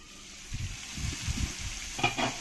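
Fried potatoes being sautéed with spices in a pan for a rohu fish curry, a soft close sizzle with scraping stirs, the crackle growing brighter toward the end.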